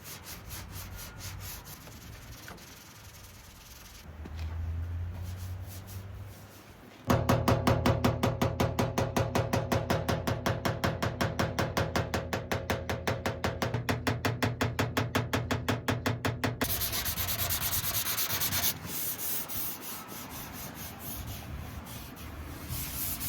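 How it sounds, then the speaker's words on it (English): Hand sanding works down dents on a car body panel, quiet scraping at first, then a long run of fast, even back-and-forth strokes rasping close and loud before a rougher continuous rub. "So hammer, you can start beating these down a little bit and then start sanding more."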